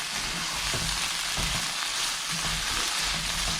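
Coriander powder sautéing in a pan for chicken dum biryani masala over a medium flame, giving a steady close-up sizzle with soft crackles and faint stirring taps throughout, no talking.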